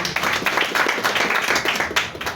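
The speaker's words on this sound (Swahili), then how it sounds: "Tuwapigie makofi kwetu." An audience at a Kenyan awards unveiling event applauds sponsors, a dense burst of many hands clapping in a steady rattle for a couple of seconds, fairly close and loud.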